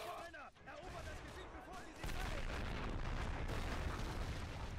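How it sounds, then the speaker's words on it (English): Mortar round exploding in the Men of War: Assault Squad 2 battle game, a loud sustained blast and rumble that swells halfway through amid ongoing battlefield noise, with a voice speaking early on. "He's hit by a mortar, I think."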